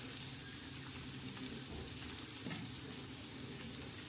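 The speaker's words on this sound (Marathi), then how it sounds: "हा कांदा छान असा परतत आहे" Chopped onion fries in a pan with a soft, steady sizzle and faint crackle, heard quietly and alone.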